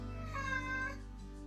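Hungry house cats meow loudly at close range, one drawn-out plaintive call that trails off, with no talking.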